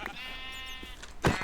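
A sheep in Minecraft gives a single wavering bleat in a forest, followed by a short sharp knock near the end, with no talking.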